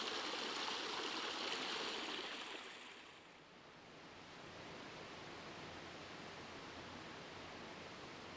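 A woodland stream runs steadily in the woods, its broad rushing wash loud and close at first, then softening slightly into an even, continuous flow.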